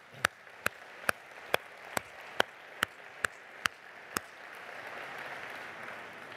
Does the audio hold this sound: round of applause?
yes